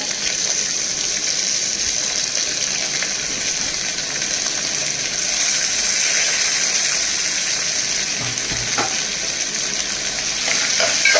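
Loud, continuous hissing sizzle of chopped onion frying in a hot pan, close by, with faint stirring underneath.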